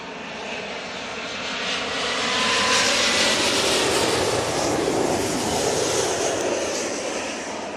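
A jet airliner in oneworld livery passes near London Heathrow, its engine roar swelling to a broad loud rush mid-pass and holding steady, with no talk over it.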